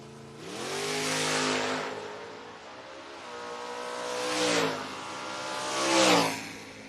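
A Camaro drag car sits at a drag racing start line, its engine revving in three separate rising bursts that swell loud and then drop back to a rough idle between them.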